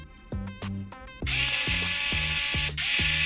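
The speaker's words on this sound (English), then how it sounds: "we're now using a T9 to remove the screws that hold the hinges" A T9 screwdriver backs hinge screws out of a MacBook Pro, making a few separate short mechanical whirs, then a steadier close whirring with quick regular ticks, heard alone.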